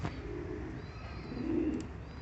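A pigeon kept in a home flock coos softly once, close by, over faint background noise.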